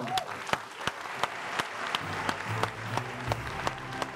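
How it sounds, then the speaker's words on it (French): Scattered claps and a burst of applause rise over a murmuring crowd, with sharp individual hand claps standing out now and then. "Dès que vous l'avez dit, les acclamations, les ovations sont montées."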